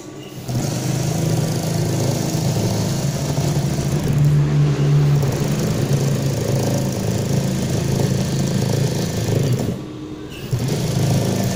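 A car engine catches and idles steadily during an alternator test, a loud continuous mechanical hum with a brief dip near the end before it picks back up.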